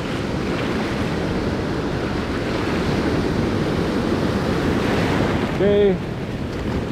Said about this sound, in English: Let's let the waves come in.